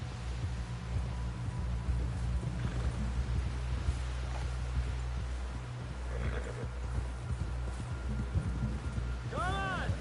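Horse hooves clop steadily as a rider travels in the Red Dead Redemption 2 video game, set under a constant low rumbling drone, with a short tonal cry rising near the end.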